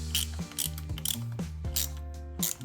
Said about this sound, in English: all I'm doing is just tighten a little hose clamp around this pipe